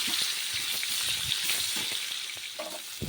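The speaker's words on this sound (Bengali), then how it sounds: "লাল লাল ভাজা হওয়া পর্যন্ত অপেক্ষা করব।" Potatoes with turmeric fry in hot oil in a pan, giving a close, steady sizzle with occasional soft stirring knocks.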